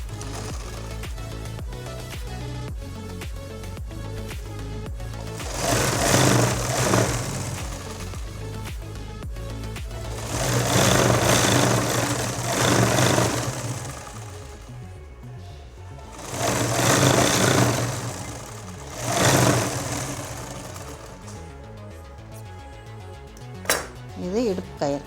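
Bursts of sewing machine stitching on a night gown come in several runs, loud and close, with pauses of quieter handling and clinks between them.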